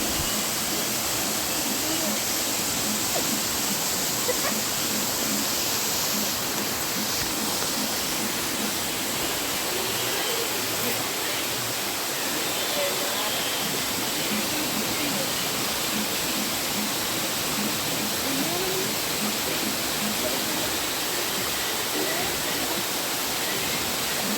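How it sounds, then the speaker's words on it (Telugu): A forest waterfall's steady, rushing roar fills the whole stretch, loud and unbroken, with no voices over it. "ఇది జలపాతం"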